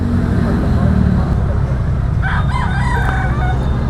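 A fighting rooster crows once partway through, over a steady rumble of traffic and background noise near an expressway construction site.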